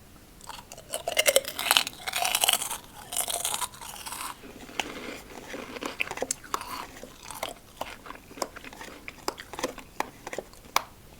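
Loud, close crunching and chewing of crispy spicy pork rinds, bursts of crackly bites followed by a run of smaller, rhythmic munches.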